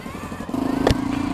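Stock exhaust on a Honda XR650L motorcycle idling roughly and quietly nearby, a steady low engine pulse with one brief clunk in the middle.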